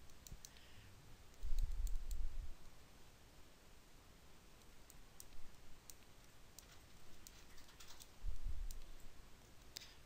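A computer mouse clicking on the grid cells of an analog security camera's OSD menu: scattered faint, sharp clicks over a quiet hiss, with a few soft low thumps between them.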